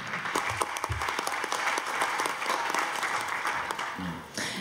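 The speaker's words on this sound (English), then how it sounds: "Please, a big warm round of applause to welcome him here today." An audience at a forum session breaks into steady, dense applause to welcome a speaker, sustained clapping for several seconds before tapering off.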